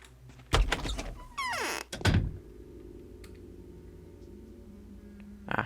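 Front door of a house in the video game Pathologic, a loud clunk and creaking slide as it opens, a heavy thump shortly after, then a low ambient hum and a faint final knock.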